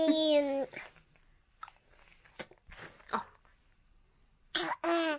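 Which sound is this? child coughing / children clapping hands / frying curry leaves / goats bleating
child coughing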